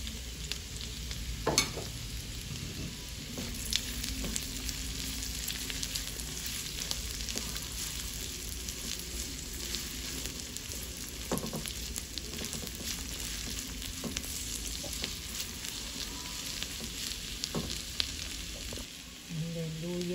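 Onion fries and is stirred in a pan for tofu sisig, a steady close sizzle broken by frequent scraping and clinking stirs, with a voice speaking briefly.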